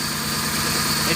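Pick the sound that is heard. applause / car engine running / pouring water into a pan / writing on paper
car engine running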